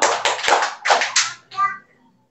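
Children in a classroom clapping game clap together in a few short, sharp bursts in time, with young voices chanting along before it falls silent.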